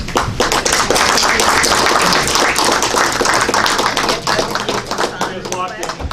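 Loud, dense applause in a meeting room after a commissioner's swearing-in, continuous clapping close by with voices talking underneath.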